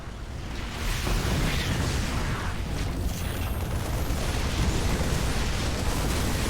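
Siege tank fire in a StarCraft II match, a dense roaring wash of explosive booms that swells in after a quiet start and stays loud and continuous throughout.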